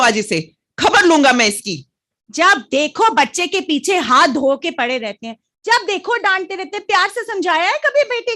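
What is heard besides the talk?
No everyday noise stands out behind the speech.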